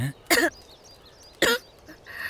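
Two short, sharp coughs from smoke, about a second apart, fairly close, with quiet background in between and a faint third sound at the end.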